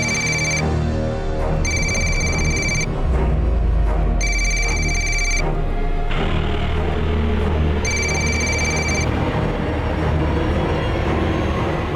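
An electronic telephone ringtone trills in repeated bursts with short gaps between them, riding over a loud, steady rumble of background noise.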